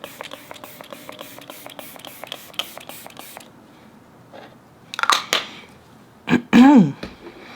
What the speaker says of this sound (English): And to set, I'm going to use my e.l.f. setting spray.